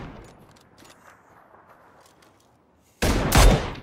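Sniper shot in the game PUBG, a sudden loud crack and echoing boom after a few seconds of quiet in-game ambience, ringing out briefly at the end.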